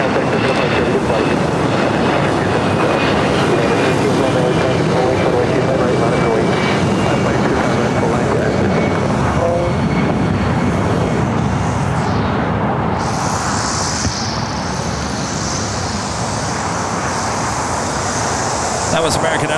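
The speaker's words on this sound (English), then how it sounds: "That was American Airlines Flight 2277 heading to St. Louis in an A319." An American Airlines A319 jet takes off at LAX with a loud, sustained engine roar, a broad rushing thrust noise that holds steady over about twenty seconds.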